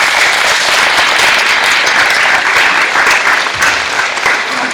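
More than a hundred students applaud together at a school sugar-themed competition, producing a dense, steady roar of clapping that stays loud and even throughout with no voices standing out.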